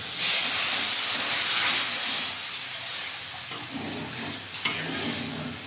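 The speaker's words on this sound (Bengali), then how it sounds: "এবারে জল দিয়ে দেবো" Water is poured into a pan of fried spice paste for a fish curry with potatoes, setting off a loud, broad steamy sizzle and hiss that slowly settles over several seconds, with a small clink near the end.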